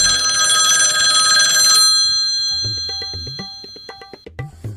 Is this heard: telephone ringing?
yes